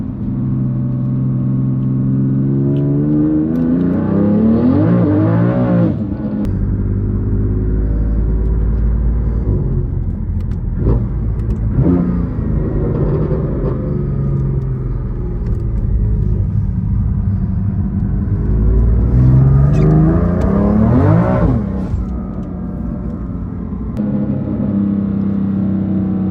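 A 1000-horsepower BMW M3 engine rumbles loudly, with repeated revs that climb and fall in pitch twice, the heavy low drone staying up close throughout.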